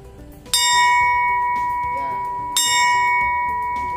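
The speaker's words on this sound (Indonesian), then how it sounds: "Jadi kita sebut di sini lonceng kematian. Jadi kenapa? Kalau ada yang mau dimakamkan, ya, itu loncengnya dibunyiin." A funeral bell at a cemetery museum is struck twice, each strike ringing out bright and loud before slowly fading, with faint murmuring in the background, at night.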